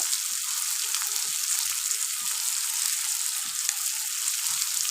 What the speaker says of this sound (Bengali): লঙ্কাটা তুলে দেবো আর একটু কারি পাতা আজকে দিয়ে দিই